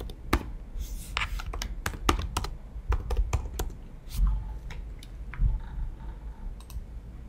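Close computer keyboard typing, bursts of quick crisp key clicks with short pauses between them, fairly quiet and alone.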